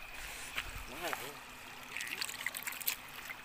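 Water in a mountain stream in Phu Yen trickles softly and steadily in the background while people talk nearby.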